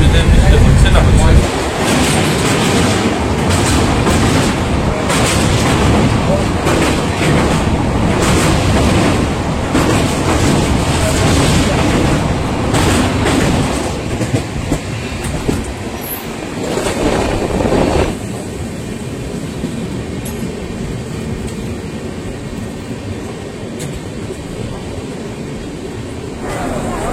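The Guwahati Garib Rath Express, train 12517 from Kolkata toward NJP, runs with a steady loud rumble and rushing wind throughout, easing slightly toward the end.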